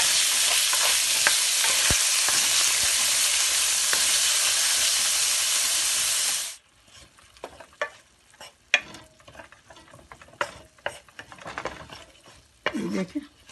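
Small chicken chunks hitting a hot pan, a loud dense sizzle for several seconds that cuts off abruptly, followed by quieter scattered clinks and stirring knocks.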